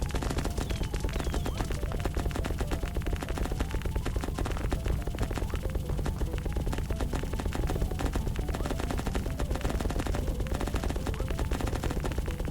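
A Gatling gun in the video game The Gnorp Apologue fires nonstop, a dense, rapid stream of shots at steady loudness through the whole stretch.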